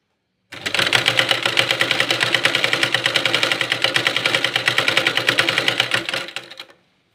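A sewing machine stitches along the back seam of a blouse in one rapid, even run of close needle clatter, starting abruptly and stopping after about six seconds, loud and near with no talking.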